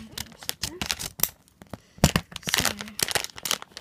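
Crinkling and tearing of a plastic foil Moshi Monsters packet in several bursts, close up, with sharp crackles and rustles and brief pauses between.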